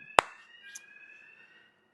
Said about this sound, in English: If you can hear the alarm keep going off,